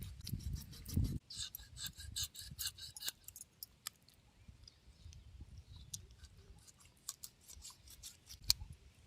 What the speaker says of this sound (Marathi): मरळ कशी तरी कापून घेतली बारीक सुरीने.